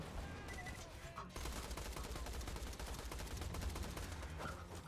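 Rapid gunfire from the video game Borderlands 2, with turrets and enemies in a firefight: dense bursts of shots crackling steadily throughout, loud and close, with a brief break near the start.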